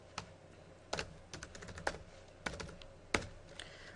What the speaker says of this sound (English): and then you could type out the full information.